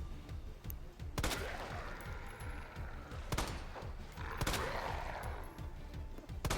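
Pistol shots in Resident Evil 2 Remake, a few sharp cracks spaced out over a low rumbling game background, fairly quiet overall.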